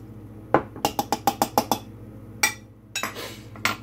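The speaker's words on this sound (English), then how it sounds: "I'm going to stir that like so." Mint being stirred in a kitchen container for cucumber mint lemonade, a rapid run of about eight sharp, bright spoon clinks against the container, followed by a few scattered louder knocks and scrapes, close and without talk.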